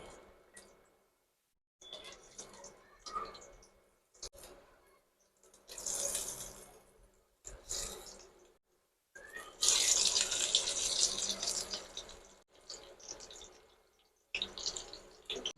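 Bitter gourd pieces dropped one at a time into hot oil in a pan, giving intermittent bursts of crackling sizzle separated by quiet gaps, close and fairly soft.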